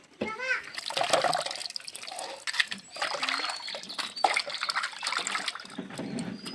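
Tap water runs steadily while tilapia fish are washed under it, with splashing and splattering over the stream and a voice talking through much of it.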